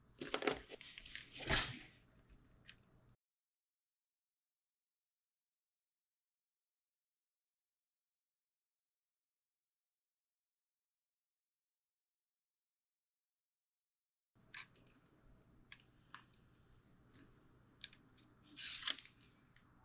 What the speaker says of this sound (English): Cut those off the sprue